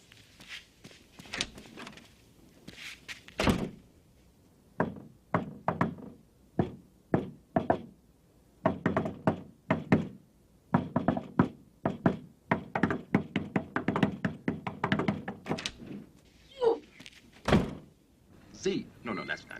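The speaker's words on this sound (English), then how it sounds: "we need a password or a secret knock" A rhythmic secret knock rapped on a door, several quick knocks in a pattern with pauses, close and fairly loud, with people talking around it.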